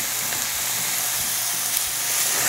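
Onions sauté in a pan with a loud, bright, continuous sizzle and hiss, close up, joined by a few soft stirring scrapes and no voices.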